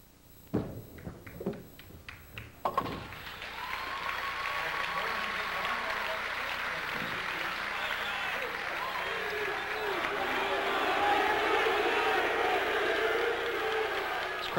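Bowling tournament crowd at a televised title match, opening with sharp pin and ball clatters, then swelling into loud sustained applause and cheering that holds steady to the end.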